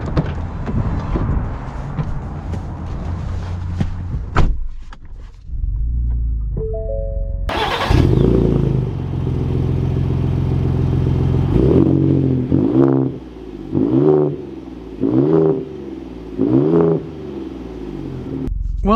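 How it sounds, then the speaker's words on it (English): A Shelby Baja Raptor truck fires up with a starter crank and a loud, deep engine roar that settles into a rumbling idle, followed by several throttle blips and rising revs as it pulls away, close and powerful. "Let's take the Shelby Raptor out and see how she drives."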